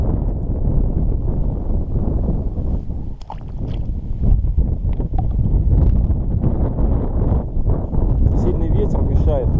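Steady wind buffets the microphone outdoors while spin fishing for perch from an anchored boat, a dense low rumble that runs throughout, with faint voices and small clicks occasionally heard beneath it.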